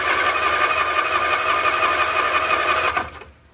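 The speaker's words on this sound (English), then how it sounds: "Okay, I'm just going to turn the engine over." A barn-find Sprite car's engine cranks over with a fast, steady whirring buzz for about three seconds, then stops abruptly.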